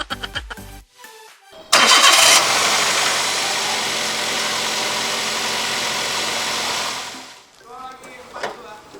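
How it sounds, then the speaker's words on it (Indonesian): A Toyota Vanza 1.5 car engine cranks briefly after some short clatter, then catches and roars loudly, settling into a steady, even run for several seconds before cutting off, with faint voices at the end. "untuk terakhir kita coba nyalain dulu mesinnya"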